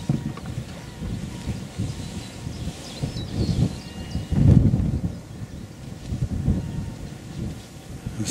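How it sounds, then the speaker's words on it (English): Wind on a hillside overlooking the Bristol Channel buffets the microphone in gusty, low rumbling bursts, swelling loudest midway, with no voices. "Quite windy."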